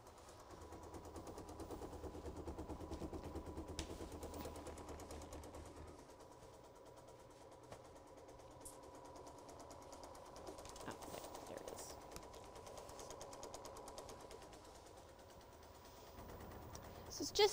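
Embroidery machine stitching a quilted box outline in variegated thread, a steady fast rapid-fire needle chatter running continuously throughout, moderately loud with a mechanical hum underneath.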